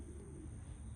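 Racing pigeons that have just landed after a training toss give soft, low coos against a steady outdoor background, heard for a moment and fairly faint.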